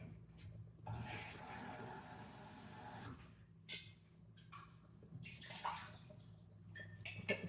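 Running water rinses out a pot at a kitchen sink, a steady broadband wash for about two seconds, then softer intermittent splashes and clinks close by.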